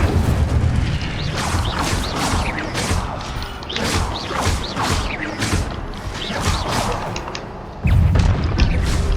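The Incendio fire spell cast in the video game Hogwarts Legacy, a run of loud booming and crashing blasts in quick succession over a rumbling battle bed, with no speech.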